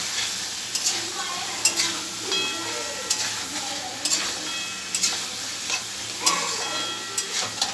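Prawns sizzle as they are sautéed and stirred in a spiced masala for a prawn malai curry, a steady frying hiss broken by sharp spatula scrapes and clinks at irregular intervals, close by with no talk.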